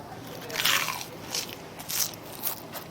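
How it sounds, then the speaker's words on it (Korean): Crisp, crackly crunches from biting into crispy green laver seaweed, three or four distinct bites spaced about half a second apart, close and fairly loud. "바삭한 파래김입니다."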